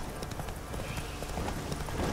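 Horse hooves clip-clop steadily in The Witcher 3 video game, a quick, even rhythm of close, clear strikes over constant background game ambience, with no speech.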